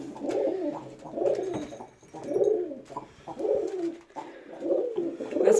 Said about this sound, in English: That's my other pigeon up there talking to him.